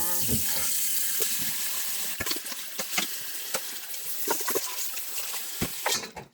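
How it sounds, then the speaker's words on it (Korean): Blanched water parsley (minari) rinsed under cold running water, a steady close gush from the tap, then splashing and handling clatters as the greens are moved around, ending abruptly. "찬물에 헹궈주겠습니다"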